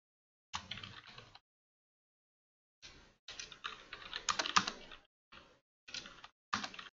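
Bursts of typing on a computer keyboard while entering a quiz title, quick clustered key clicks separated by pauses, close and clear with no talk.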